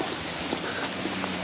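Steady rain hisses and patters on a New York City street during a severe May storm, a continuous wash of falling water heard alone.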